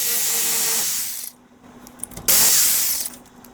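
A jigsaw saws through wood in loud, steady bursts, cutting for about a second, pausing briefly with a few light clicks, then starting again just as loud; no talking.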